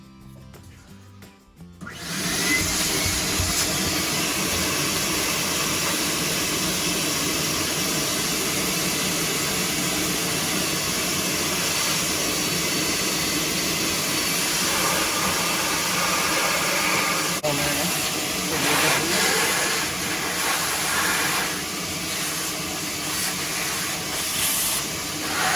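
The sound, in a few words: shop vac vacuuming out a Dyson Ball DC40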